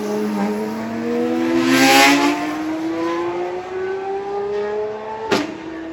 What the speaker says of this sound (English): The 2025 Pagani Huayra R Evolution Roadster. It is a 900 horsepower, naturally aspirated V12 beast without a roof.